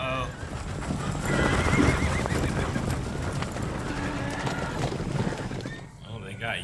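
Horses neighing and hooves clip-clopping in a drama scene, repeated whinnies over a steady beat of hooves, with voices talking underneath.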